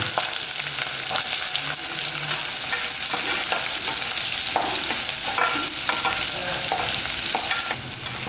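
Small shallots sauté in hot oil with cloves, a torn bay leaf and curry leaves, giving a loud, constant sizzle broken by frequent scraping stirs of a spoon in the pan.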